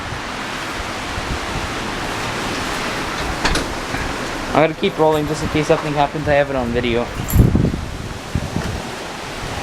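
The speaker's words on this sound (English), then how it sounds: "So now we're taking this stuff outside, and look how windy it is." Strong night wind outdoors makes a broad, steady rushing roar, with a person talking close by over it partway through.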